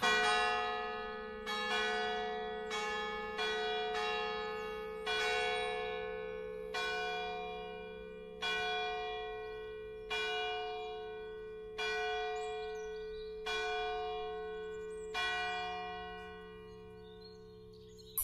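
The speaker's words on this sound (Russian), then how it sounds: "только что пробили склянки здесь, вернее не склянки, а колокола" Church bells ring out in a park, about a dozen strong strikes at uneven intervals, each one sustaining and fading before the next, clear and without talk.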